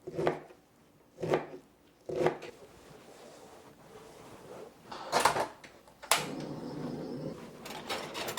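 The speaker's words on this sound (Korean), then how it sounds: "자, 이런 식으로 잘라줍니다. 이렇게 칼로 자르면 다 잘라지기 때문에." A knife cutting through sweet corn on a cutting board, kernels sliced off the cob: several distinct chopping strokes in a loose rhythm, close and fairly loud, then a rougher scraping stretch, with no voices.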